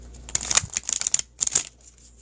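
Two quick bursts of crisp riffling and flicking, like a deck of cards being shuffled up close, with a short pause between.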